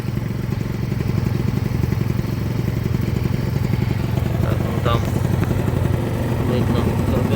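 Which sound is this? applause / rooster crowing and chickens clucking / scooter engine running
scooter engine running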